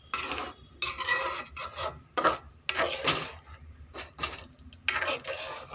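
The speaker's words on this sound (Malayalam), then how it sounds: "നല്ലപോലെ ഇളക്കിയെടുക്കാം." A spoon stirs chundaykka theeyal, a turkey berry curry with roasted coconut, in a pot, making a series of close, rhythmic scraping and rubbing strokes with short pauses between them.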